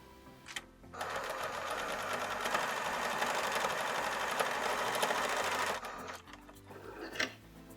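Sewing machine stitching a fabric face mask, a steady close mechanical whir for about five seconds after a brief start, then stopping, with a few clicks before and after.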